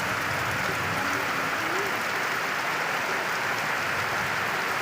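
Heavy rain pours in May, a dense continuous roar of falling water on surfaces, constant and loud throughout with no pauses.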